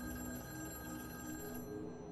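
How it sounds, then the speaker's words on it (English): A payphone rings in a dark, eerie setting, its bell a continuous metallic trill held at a faint, even level with no voices. "I sighed slowly and walked towards the still ringing phone."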